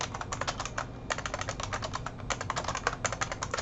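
Fast typing on a computer keyboard, a close, quick run of light key clicks with a short pause before the keystrokes resume, no talking over it.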